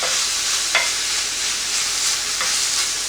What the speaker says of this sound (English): I'm going to add in the garlic till it becomes fragrant.